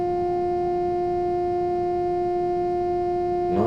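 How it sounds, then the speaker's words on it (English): A loud, sustained two-tone train horn from a train simulator video game blares steadily, a pure harmonic drone holding for several seconds before a brief shift at the end. "just gonna ignore the really loud train horn"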